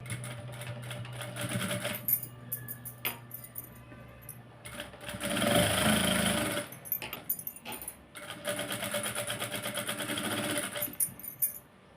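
A sewing machine runs in several bursts while stitching blouse cloth in straight lines around the armhole, with short pauses and a loud, steady whirring run in the middle.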